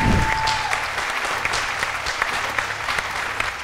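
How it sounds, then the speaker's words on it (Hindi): A studio audience on a TV game show bursts into dense, lively applause for a contestant as the time runs out, a continuous crowd clapping throughout. "बहुत सारी तालियां"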